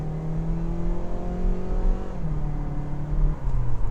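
A Hyundai Kona 1.6T crossover in sport mode accelerates hard, its engine note rising steadily as revs climb, dipping at a gear change and climbing again, heard loud and close from inside the cabin.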